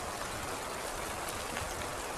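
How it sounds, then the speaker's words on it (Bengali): Steady rain falling as a broad, even hiss of dense drops, close and unbroken throughout, with a faint knock at the very end. "বৃষ্টির মধুর শব্দে ধীরে ধীরে চোখ বুজে এলো বিশু"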